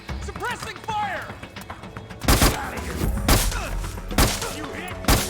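Bursts of suppressing gunfire from the Metal Gear Solid 4 video game, several loud sharp volleys spaced a second or so apart, with radio chatter and other game sounds in between.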